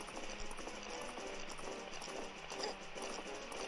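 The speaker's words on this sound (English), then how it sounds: "If you're gonna get pulled on by a horse like that, hanging on someone's leg, getting dragged" In the Zelda Majora's Mask 3D video game, a horse gallops while dragging someone, with rapid clip-clop hoofbeats over a dense continuous game soundtrack, moderately loud and unbroken.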